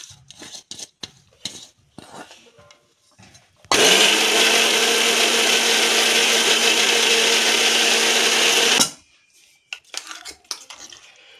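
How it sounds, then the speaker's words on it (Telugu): An electric mixie grinds soaked tamarind into a smooth paste, a loud continuous whirring roar lasting about five seconds, framed by clattering kitchen handling before and after. "ఈ చింతపండుని మనం మిక్సీకి వేసి నున్నగా పేస్ట్ అనేది చేసుకోవాలి ఫ్రెండ్స్"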